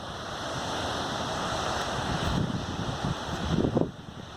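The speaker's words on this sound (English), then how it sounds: "it was super windy where I was" Strong wind roars and buffets close up, a broad, steady rush that swells and gusts toward the end.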